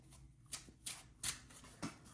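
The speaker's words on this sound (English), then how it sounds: "this is a mission to shuffle the deck up though" A double-sleeved 60-card Yu-Gi-Oh deck being shuffled by hand, several quick rhythmic riffling bursts of sleeved cards, close and fairly quiet, with no talking.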